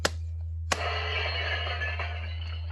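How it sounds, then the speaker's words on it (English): Glass breaks: two sharp cracks, the second followed by a sustained shimmering scatter of tinkling shards that slowly fades, over a steady low electrical hum, with no talking. "that's the sound of breaking glass"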